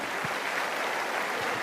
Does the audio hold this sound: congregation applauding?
yes